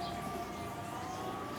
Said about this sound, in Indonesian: jika kalian mendengar suara sirine ambulan, mau sirine apa aja ya, sirine ambulan, mohon kan menepi